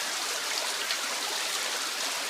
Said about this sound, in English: This is a glacial river